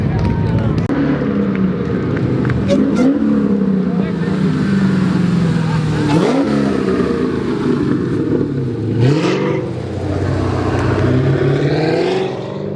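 A Jeep revs and accelerates away at a spring car show, engine pitch rising and falling in several surging sweeps over a steady roar of outdoor crowd noise, fairly loud and close.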